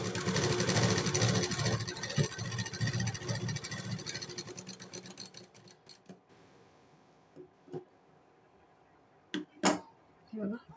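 Sewing machine stitching the folded seam of a padded blouse with cups, running loudly for several seconds, then stopping, followed by a few faint clicks and brief taps in a quieter room.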